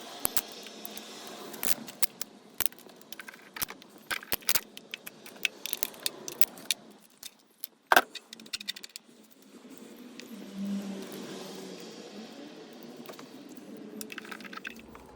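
Rocker cover bolts on a Peugeot 307 engine are undone, with rapid bursts of light metallic clicking and ratcheting, a sharp clack partway through, then softer scraping and handling, all close and quiet.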